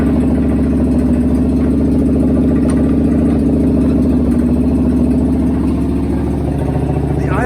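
A John Deere 425 garden tractor engine runs steadily at a fairly high idle on a hot day, a close, constant mid-pitched drone with a rough pulsing hum and no let-up throughout.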